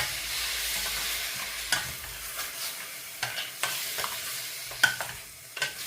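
Pork curry with turmeric stirred in a pot, a continuous soft sizzle broken by repeated scraping strokes of a spoon against the metal, fairly close and moderate in level.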